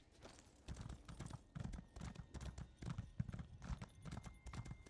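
Video game horse hooves clip-clop in a quick, steady trotting rhythm, close and continuous, with no voices.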